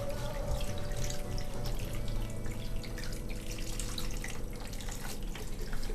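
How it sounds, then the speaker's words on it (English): A full quart of beef broth pours from a container into the bottom of a cooking pot for an Italian beef roast, as a steady, dense liquid rush lasting several seconds. "is pour the beef broth down into the bottom of this"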